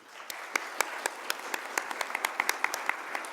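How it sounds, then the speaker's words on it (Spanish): Scattered claps from a modest audience honour Peruvian authors at the 2014 FILBo book fair, a thin, uneven patter of individual hands that stays fairly quiet and distant, with no voices over it. "Un aplauso para ellos, por favor."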